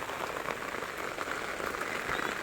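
Heavy rain falls steadily on surfaces around a house in Nellore, a dense continuous patter with scattered louder drops close by and no talking.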